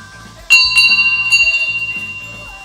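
Bells ring out in a few sharp, bright strikes, each leaving a shimmering, pulsing tone that slowly decays, loud and close, over a soft low hum.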